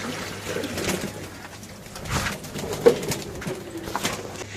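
Newly collected female pigeons coo softly in low repeated calls while given bath water, faint and close, over a quiet room background.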